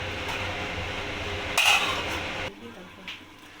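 A metal lid clinks down onto a cooking pot of chicken curry with papaya and potatoes, a short bright clatter amid low kitchen sizzle that then quiets.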